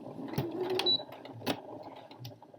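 A sewing machine stitches a blouse seam in short irregular bursts, close and fairly loud, with small clicks and a brief whine between runs of stitching.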